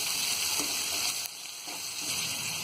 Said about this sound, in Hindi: अब डाल देंगे हाफ कप मटर, ये डाल देंगे। और इन्हें भी हम थोड़ा सा फ्राई कर लेंगे